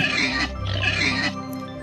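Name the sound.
pig oinking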